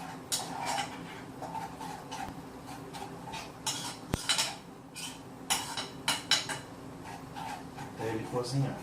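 A spoon stirs and scrapes 100 grams of coconut through a low-carb, gluten-free Prestigio pie mixture in a pot, giving repeated clinks and taps at an uneven rhythm, close and fairly quiet, with one sharp knock midway.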